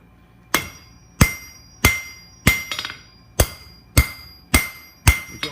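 A hammer strikes an aluminum bar eight times in an even rhythm, cold-forging an abrupt taper for a snake's head. Each blow is a sharp, close, ringing metallic hit.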